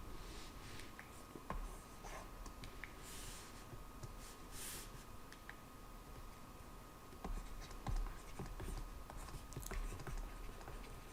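A marker scratches and squeaks in faint, short strokes on a board during a calculus lecture on double integrals, quiet and close with a low room hum and no talking.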